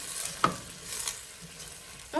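Shrimp, lobster, scallops, crab and corn sauteing in a pot over medium-low heat for seafood chowder, a soft steady sizzle with a brief stir or clink near the start and another near the end, no talk.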